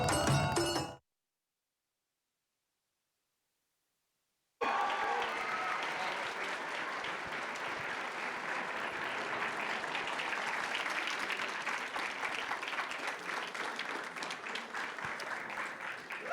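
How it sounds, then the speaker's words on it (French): An audience applauds at a handmade cosplay contest at Japan Impact, a brief burst cut off by a few seconds of silence, then sustained loud clapping from a large indoor crowd. "On peut encore les applaudir bien fort."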